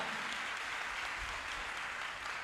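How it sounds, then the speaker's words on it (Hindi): An audience at a religious sermon bursts into steady, sustained applause, many hands clapping together in a dense, even wash of sound that holds without pause. "आइए जोरदार तालियां बजाइए कादिर मुतलक खुदा के लिए, जोरदार तालियां।"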